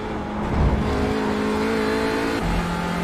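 An Audi RS3 LMS TCR race car drives at Brands Hatch, its engine droning loud and close from onboard. The steady tone holds under throttle, then drops in pitch at a gear change near the end.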